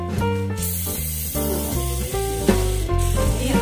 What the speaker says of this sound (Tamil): வாங்க ஸ்ப்ரே அடிப்போம்